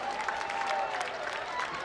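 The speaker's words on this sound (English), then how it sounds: "So a nice round of applause for these young ladies." Crowd applause for the Cooper cheerleaders at a school sports event, steady dense clapping held at an even level throughout with a faint tonal hum running beneath.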